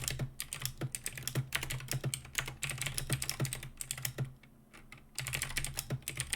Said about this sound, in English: Lots of clickety-clacking. My apologies. Yeah, keyboard ASMR.